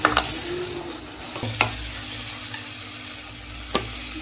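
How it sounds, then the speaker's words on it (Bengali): Spices—turmeric, salt and chili powder—being stirred into a hot pan with broccoli, paneer and mushroom, a spoon scraping in a few distinct strokes over a steady soft sizzle, no voices. "এটাকে এখন ভালো করে মিক্স করে নেব"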